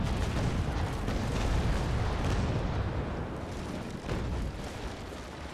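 Cannon broadside from a frigate in the naval battle game Naval Action, a loud, continuous rumbling barrage of overlapping booms that rolls on without a break, with one short dip near the end.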